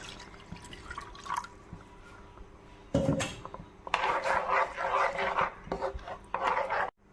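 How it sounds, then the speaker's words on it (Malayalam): After a quiet start, thin coconut milk is poured into a chicken kurma in several splashing bursts, followed by bubbling and sizzling that ends abruptly. "നമുക്ക് ഈ 2ാം പാൽ 1 കപ്പുണ്ട്. അത് ഇതിലേക്ക് ഒഴിക്കാം."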